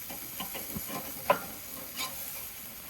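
Cheeseburger patties sizzle over the direct-heat side of a Weber charcoal grill, a soft steady hiss with a few faint pops and one sharp clack standing out, nobody talking.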